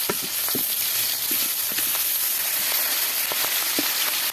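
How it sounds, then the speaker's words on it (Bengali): Hilsa fish frying in hot oil on a pan, a continuous close sizzle with scattered small pops and crackles throughout, no voices. "মাছ ভাজার পান্নে তেল তেল গরম হয়ে গেছে এখন মাছ ভাজি নিম"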